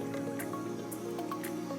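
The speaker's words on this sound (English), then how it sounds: "Maybe, what if I dripped the color in?" Watercolor paint drips onto paper in a few soft, close, wet taps and squishes spread across a short quiet moment.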